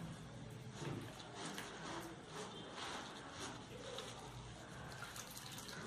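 Water poured into a bowl of atta flour batter for spinach cheela, a steady trickling splash running through the whole stretch at close range with no talking over it.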